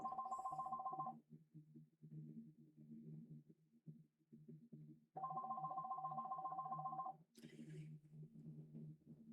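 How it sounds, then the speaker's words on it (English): A landline telephone rings in two long electronic trills separated by a pause, with a faint low murmur of a voice between the rings. "My landline is ringing."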